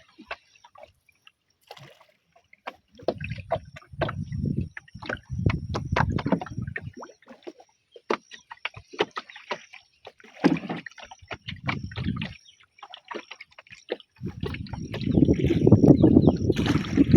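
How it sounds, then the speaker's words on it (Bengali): A wooden rowboat is pushed through water in repeated bursts of splashing and sloshing, near and fairly loud, with quiet gaps between pushes and a heavier surge at the end. "পানির শব্দগুলো সেই লাগতেছে।"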